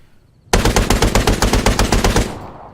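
A .50 caliber machine gun on a UAV in Arma 3 fires one sustained burst of about fifteen rapid, evenly spaced heavy shots, loud and close, ending in a brief fading echo.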